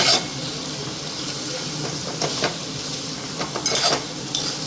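Saoji-style cluster bean vegetable being stirred with chilli powder and salt in a hot pan, with a steady sizzle under scraping stirs and light clinks of the spoon against the pan.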